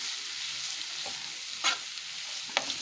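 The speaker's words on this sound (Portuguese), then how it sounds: "Picando, cozinhando na margarina." Chopped carrots fry in margarine in a pan, a steady soft sizzle punctuated by two or three brief scraping stirs, with no talking.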